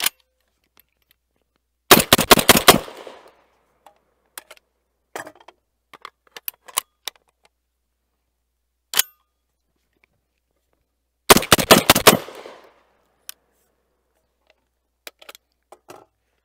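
A Black Aces Tactical Core 12 shotgun fires two rapid bursts of about five shots each, emptying five-round magazines, loud and close. Scattered clinks and small handling knocks fill the quiet gaps between the bursts.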